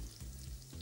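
Garlic sizzles in olive oil in a frying pan on the stove, a soft, steady, crackling hiss with no talking over it.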